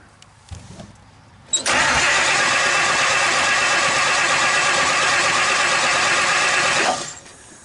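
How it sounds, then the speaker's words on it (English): A 1956 Buick 322 Nailhead V8 from a barn-find car cranks over on a fresh battery, a loud, steady mechanical churn that holds for about five seconds and then cuts off, with no voices. "So I'm gonna put a battery in it, see if it cranks over."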